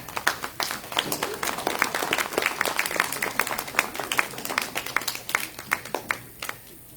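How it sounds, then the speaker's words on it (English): Scattered audience applause at a 50th wedding anniversary celebration, a modest cluster of individual claps with a loose, uneven rhythm that thins out toward the end, with faint room murmur beneath. "if we give her a round of applause, she might come back"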